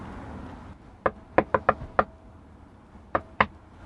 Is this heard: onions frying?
no